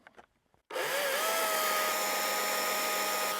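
After a few quiet knocks, an electric chainsaw starts abruptly and runs at a steady high-pitched whine, loud and close, without stopping.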